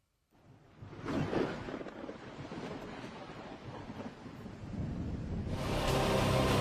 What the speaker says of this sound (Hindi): शोर मचाते हुए लहरें तेजी से बढ़ीं